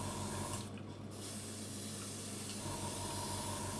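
An airbrush sprays paint onto a scale model, giving a steady, faint, close hiss that dips briefly near the start and then carries on evenly, with no talk.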